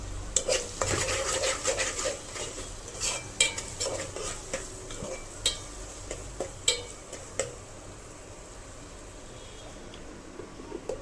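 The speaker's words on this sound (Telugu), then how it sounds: "కొంచెం ఆనియన్స్ కొంచెం మెత్తపడిలాగా మనం ఫ్రై చేసుకోవాలి." Onions fry with salt, turmeric and chili powder for a fish curry, a soft sizzle under frequent scraping and clinking of a spoon against the pan.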